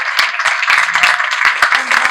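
Audience applause at a makeup training class event in a salon, a steady patter of clapping hands filling the room close by, with some chatter and voices mixed in underneath.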